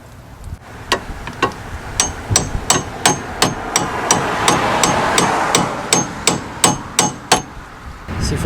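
A steady series of sharp metallic hammer strikes, about two per second and close, drives a pitman shaft seal into a 1989 Jeep Cherokee Saginaw steering box using a 30mm socket.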